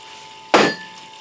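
A small check ball rattles inside the piston of a 4R70W transmission, a single sharp metallic clink close by with a brief ringing tail, otherwise quiet.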